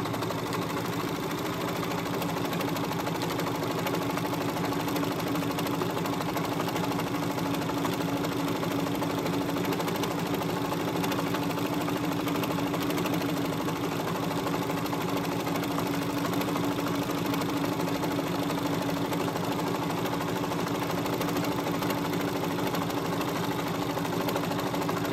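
Sewing machine stitching a rolled edge on jersey knit fabric, a steady continuous whirr with a faint rhythmic buzz held evenly for the whole stretch, close by and with no talking.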